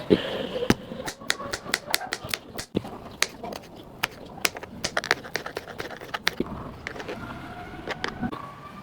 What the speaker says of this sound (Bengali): এই শশা এখন কুচি কুচি করে কাটুন